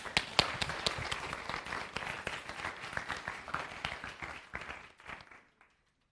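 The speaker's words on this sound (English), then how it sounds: "Please give them a warm applause." An audience at a World Youth Meeting at Ritsumeikan University claps to welcome students to the stage, a dense burst of applause with sharp individual claps that fades out and stops near the end.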